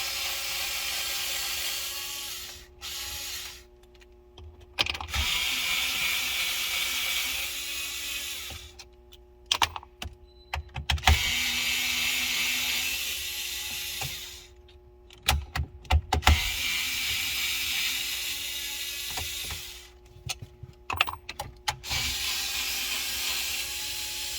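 A power driver whirs as it backs out 7mm screws holding the factory 8-inch screen in a Ford F150 dash. Long, steady, close runs alternate with short pauses full of small clicks and handling noises, and there is no talking.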